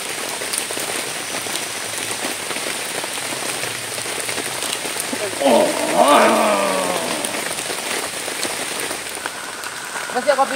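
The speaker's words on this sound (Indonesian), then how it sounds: "Udah hujan nih." Heavy rain pours steadily onto a campsite, a dense, even hiss of drops close by, with a brief burst of voices talking partway through.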